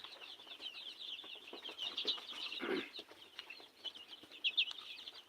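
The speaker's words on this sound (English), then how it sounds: "This is the progress we're having here at our chicken house." Chickens in a chicken house cluck and flutter softly, a steady low chatter of fowl with occasional wing flaps, fairly faint and distant, no talking.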